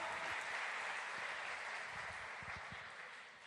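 A church congregation applauds in a dense, continuous wash of clapping that stays fairly faint and slowly fades, with a few louder nearby claps standing out.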